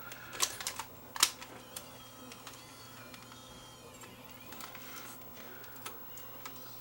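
A Sony CCD-TRV118 Hi8 camcorder with a broken latch and dead buttons has its tape compartment pried at, giving small plastic clicks and ticks, one sharper snap near the start, faint and close over quiet room hiss.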